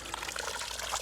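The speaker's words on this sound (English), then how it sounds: "I like the idea of using a rose faced upwards on watering cans. It goes in more gently." Water pours gently from a watering can fitted with an upturned rose onto soil around a newly planted pot-grown tree, a soft, steady trickling patter like light rain, heard alone and close.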